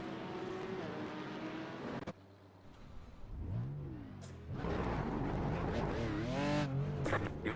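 A race car engine in a Nürburgring sim racing video game, revving and shifting through gears with rising and falling pitch, loud and continuous, with a short dip before accelerating hard again.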